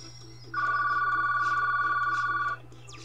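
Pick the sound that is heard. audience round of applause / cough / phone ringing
phone ringing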